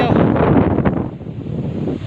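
Strong wind blows across the top of a hill ridge above farmland, buffeting the microphone in loud rushing gusts that ease off toward the end.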